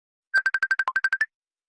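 A short electronic ringtone plays eleven quick, evenly spaced beeps, loud and close, then stops into silence.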